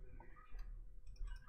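A computer mouse gives soft, quiet clicks during setup of a VirtualBox virtual machine for an Arch Linux install, faint over low room hum.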